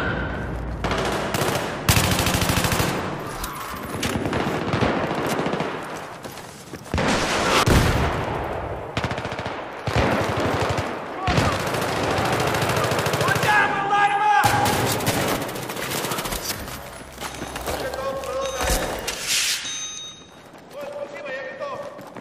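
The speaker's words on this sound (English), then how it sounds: "I'm getting shot at." Gunfire in a shooter video game, with repeated automatic bursts and single shots close and loud, mixed with other game noise and a player talking throughout.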